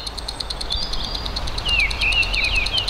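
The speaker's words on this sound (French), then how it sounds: "Écoutez ces petits oiseaux, j'adore." Small birds sing outdoors with thin, high twittering phrases over a steady, rhythmic insect-like chirping pulse, moderately loud and without talk.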